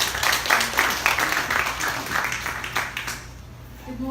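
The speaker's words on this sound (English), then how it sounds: "Let us give her a warm round of applause." An audience at an IELTS event gives a warm round of applause, clapping strongly at first and thinning out toward the end, with a low hum underneath.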